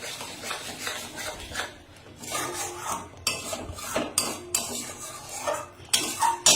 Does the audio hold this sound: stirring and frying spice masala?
yes